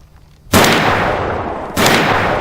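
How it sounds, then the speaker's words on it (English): Two loud, sharp reports from a new pistol fired outdoors at a rock about 40 yards out, about a second apart, each cracking close by and then trailing off in a long echo, with no talking. "Okay, son, you gonna shoot my new pistol?"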